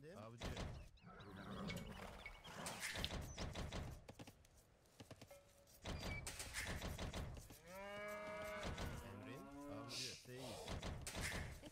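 Cows mooing in the real-time strategy game Age of Empires II, several low drawn-out moos among game effects, with people talking over much of it.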